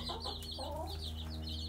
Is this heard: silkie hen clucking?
yes